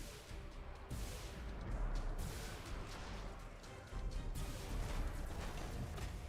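Ship cannons fire in the space-fleet battle game Battlefleet Gothic: Armada 2, a continuous rumbling barrage with repeated heavy thuds and crashes at moderate volume, swelling in two waves.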